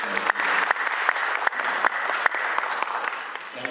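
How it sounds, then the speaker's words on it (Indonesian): Audience applause at a CEO award ceremony, continuous clapping with a few sharp individual claps standing out above the crowd, fairly loud throughout. "Boleh kita beri tepuk tangan."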